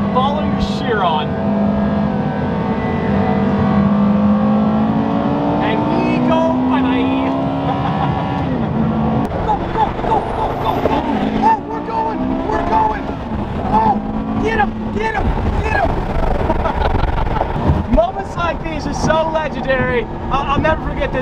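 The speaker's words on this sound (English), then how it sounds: "We're in a Mirage GT following the Chiron." A Bugatti Chiron and a Mirage GT driving through New York City streets, heard close from inside the following car: engine drone rises and falls through the gears under almost constant talking.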